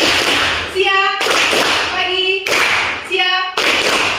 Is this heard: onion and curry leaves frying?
no